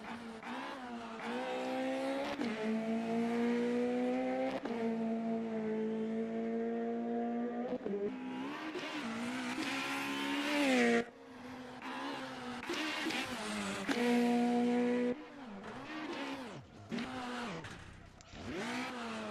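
A rally car tackles a stage at Rally Pačejov in the Eastern European Rally Championship, its engine rising and falling through hard acceleration, gear changes and braking into corners, while a commentator talks over it.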